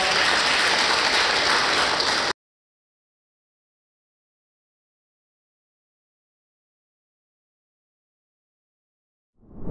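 A short burst of dense applause from a class audience closing a lecture, about two seconds, then abrupt silence.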